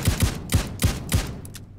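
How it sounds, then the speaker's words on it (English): Five sharp gunshots from hip-fire while running in the video game Payday 2, each a punchy crack with a low thump, evenly spaced and alone. "So now let's try aiming and running"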